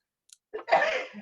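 A single sharp sneeze during a housing authority meeting, close by, preceded by a brief intake of breath and trailing off quickly.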